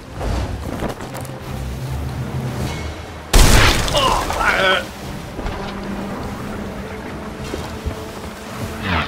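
Ship cannon fire in the Sea of Thieves pirate game: a sudden loud blast cracks out amid ocean wind and water, followed by a rumbling tail, with scattered speech-like voices around it.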